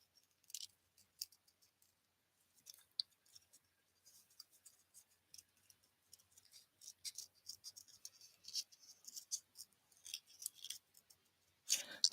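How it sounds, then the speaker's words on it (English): Scissors snip around a stamped face on paper, many quick light crisp cuts in irregular bursts with short pauses, close and quiet, no talking. "Now I got to cut a little face off and glue it back on."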